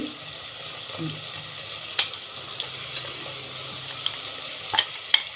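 Ginger, garlic and coriander fry for soya biryani with a soft, low sizzle, broken by a few sharp clicks of utensil against pan and a faint murmur in the background.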